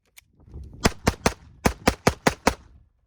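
A Glock 44 pistol fired in quick succession during a 1000-round torture test, about eight sharp, close reports in a fairly even rhythm over roughly two seconds, with a faint pop just before.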